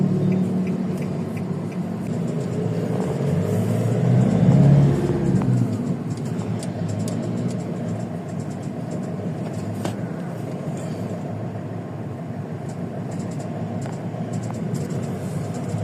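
Steady road-traffic rumble from many cars and vehicles crowding a street during an elementary school graduation in Molino, heard from inside or near a vehicle, with a louder passing engine swell partway through and no talk.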